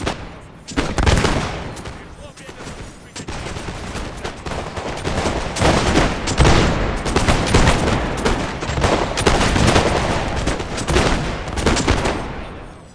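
Repeated musket volleys crack out across a battlefield in the Napoleon: Total War Master of Europe mod, Freikorps troops firing on Grasdane militia, dense overlapping gunfire rolling continuously for several seconds, loud and near.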